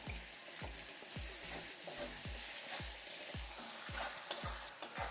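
Tomatoes with a little salt frying in a pan for a lotus stem sabzi: a continuous sizzle with regular stirring scrapes about every half second, close and fairly quiet.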